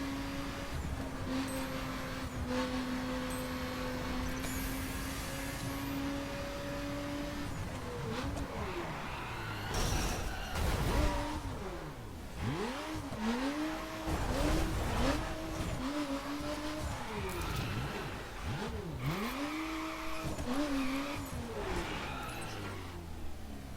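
A Bentley Continental Supersports races in The Crew video game, its engine droning and revving up and down while the tires squeal repeatedly through corners, loud and continuous.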